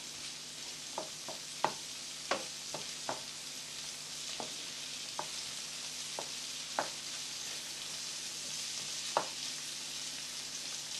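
King prawns frying in a pan give a steady broadband sizzle for the whole stretch, broken by scattered sharp pops and spits. Nobody talks.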